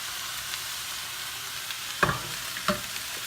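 Spoon stirring brown sugar, nutmeg and cinnamon into Brussels sprouts in a hot pan with no oil, a steady soft sizzle broken by two sharp scraping knocks near the end.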